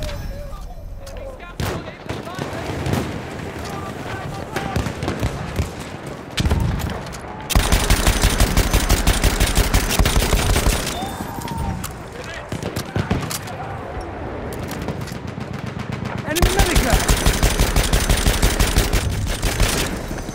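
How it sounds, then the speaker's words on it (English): Rapid bursts of light machine gun fire in the World War I shooter Battlefield 1, with long sustained rattling volleys loud and close amid surrounding battlefield gunfire and blasts, while voices talk throughout. "Enemy machine gun, sighted!"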